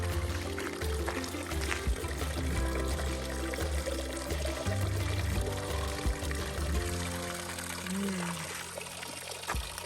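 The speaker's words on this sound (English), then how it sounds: "All along the road are these like water fountains and spring water." Spring water pouring steadily from a roadside fountain along a rural road in Portugal's Peneda-Gerês National Park, a continuous close splashing trickle with faint background noise.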